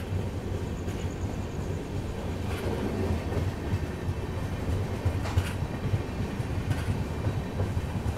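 Indore–Delhi Sarai Rohilla Express rolling along the rails, a steady near rumble with soft rhythmic clacks and occasional brief rattles, heard from inside a packed train without voices.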